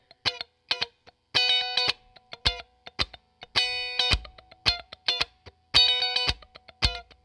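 Electric guitar with Mojotone pickups strummed in short, punchy bursts with an overdriven, effected tone, separated by brief silences, loud and close.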